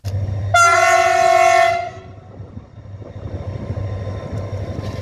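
A Spanish class 333 diesel locomotive near Zamora sounds a loud, steady horn for about a second and a half, then fades into a low, continuous engine and rail rumble.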